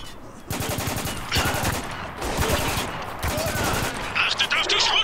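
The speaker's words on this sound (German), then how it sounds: "Unter schwerem Beschuss!" Spec Ops: The Line video game firefight with repeated bursts of rapid automatic gunfire that start and stop in clusters, loud and close, while a voice talks over them.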